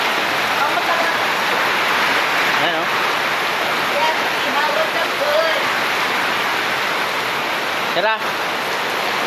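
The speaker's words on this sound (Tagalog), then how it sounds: "Lakas ng ulan." Loud, dense rushing of heavy rain pouring down continuously, with a few brief voices speaking over it.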